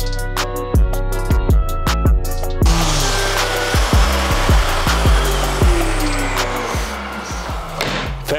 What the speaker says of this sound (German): Dann müssen wir das Ganze jetzt einmal schleifen